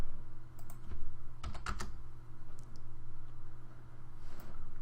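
Typing on a computer keyboard, a short burst of a few clicking keystrokes up close over a steady low hum.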